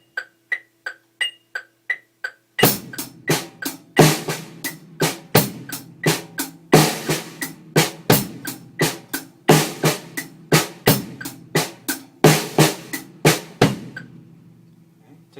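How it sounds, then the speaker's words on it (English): A paradiddle groove on drum kit, hi-hat and snare drum: a few light ticking hi-hat taps, then a steady, busy run of loud close hits mixing crisp hi-hat strokes with punchy snare accents for about eleven seconds, no voices. "moving that up to the hi-hat and snare drum, we could have it sound like this"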